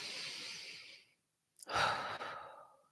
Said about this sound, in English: Breathing is such a great way to do that.